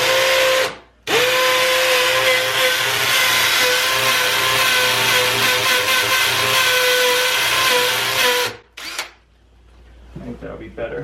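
A hammer drill bores into a basement wall in one long, loud, steady burst after a brief start, then stops and trails off into quiet room noise, with a short spin-up near the end.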